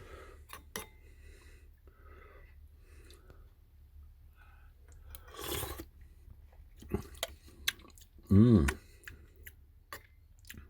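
Spoon clinks and close chewing and slurping while tasting homemade chicken soup, with scattered ticks and one louder clattering knock near the end, quiet between sounds and some speech mixed in.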